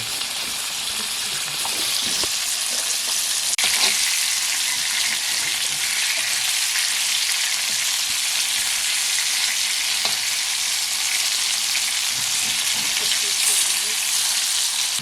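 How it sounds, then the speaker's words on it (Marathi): Toli fish fries in a pan at home, giving a steady, close sizzle throughout with occasional stirring clinks and brief water sounds. "इकडे या बाजूला मासा फ्राय पण होतो"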